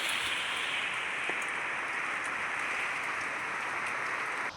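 Heavy rain pouring down in a village, a dense, even hiss of falling water that stays loud and constant with no voices.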